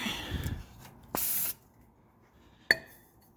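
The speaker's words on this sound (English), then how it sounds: "spray it down where the filter gotta go to" Spray cleaner blasted around the oil filter area of a car during an oil change: a short hissing burst, then a longer steady spray of about half a second, followed by a sharp click, close and fairly loud.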